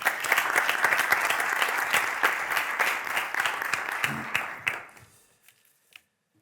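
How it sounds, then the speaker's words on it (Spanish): Audience applause for a guest at a live interview event, a steady loud burst of clapping that fades out over its last second and a half. "fuerte el aplauso para Jorge Puello."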